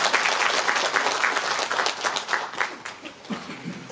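Audience applause at a book concert and publication celebration for a former deputy mayor, steady clapping from a crowded room that fades slightly toward the end, with a few louder claps standing out near the close.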